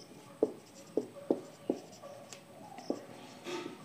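Handwriting during a thermodynamics lecture, heard as a handful of distinct, crisp pen or chalk taps and strokes spaced irregularly over a few seconds, close up against a quiet background with no talking.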